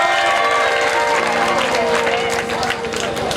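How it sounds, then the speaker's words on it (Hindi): Audience at a Ram Vivah religious storytelling event breaking into loud, continuous clapping and cheering close by, filling the whole stretch and fading slightly toward the end. "एक बार ताली आप लोग जरूर बजाइए।"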